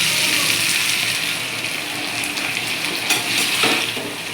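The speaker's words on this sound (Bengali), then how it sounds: "মশলা মাখানো হয়ে গেছে এবার আমি একটু গরম জল ঢেলে দেবো" Hot water is poured into a pan of spiced potato and pointed gourd curry with rice, giving a steady, close hiss and bubbling sizzle that runs through the clip without talk.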